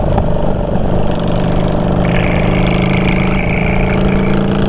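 A Honda Shadow Bobber motorcycle ridden at night, its engine droning loudly and steadily close by with rough popping backfires in the exhaust and a rising tone partway through, no talking.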